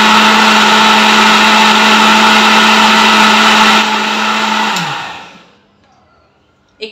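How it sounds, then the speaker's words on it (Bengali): An electric blender runs loud and steady, mixing chocolate pound cake batter, then winds down and stops, leaving near silence with a brief knock at the end. "তো এখন আমি ব্লেন্ডার মেশিনটা চালু করে দিচ্ছি।"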